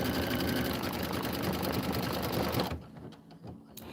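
An embroidery machine stitches a tack-down outline on felt for a raw-edge autumn applique border, a loud, fast mechanical chatter up close that cuts off abruptly near the end, leaving quieter clicks.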